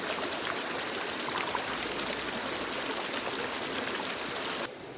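River water flows steadily at a quiet forest stream fed by trickles from a cliff, a continuous close rushing wash with no voices, dropping slightly in level near the end.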